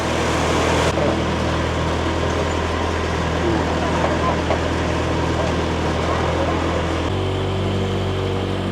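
A boat engine drones steadily on the Mekong River near Khemarat in Isaan, loud and continuous, with its low hum shifting pitch near the end as the boat gets under way; voices are faintly present beneath it.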